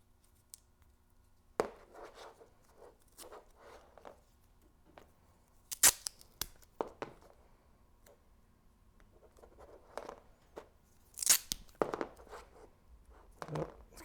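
Masking tape pulled and torn in short, sharp rips during installation of carbon fiber trim on an Alfa Romeo Giulia steering wheel, heard close as scattered crisp bursts and soft handling sounds in a quiet room.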